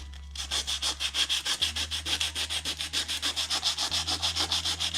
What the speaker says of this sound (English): obviously it's sandpaper, so it is bringing it up